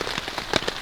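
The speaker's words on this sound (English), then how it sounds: "it is very, very windy and rainy outside right now." Rain patters steadily on the outside of a hot tent during a windy, snowy and rainy camping trip, a brief burst of close, dense drops.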